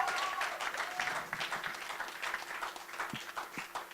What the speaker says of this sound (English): Can you give another round of applause?